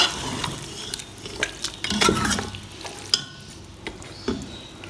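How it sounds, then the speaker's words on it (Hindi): Beef and chana dal fry in a pot while being stirred, a steady sizzle running under repeated scrapes and metal clinks from the spoon against the pot, close and moderately loud, with no talking. "इसको अच्छे से हिला लेते हैं, और मज़ीद हम जो है ना 10 मिनट इसको और फ्राई करते हैं।"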